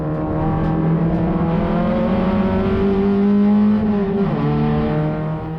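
Race car in a racing sim video game at Phillip Island, loud steady engine drone with a clear pitch that holds, drops at a gear change, then climbs again, close and continuous.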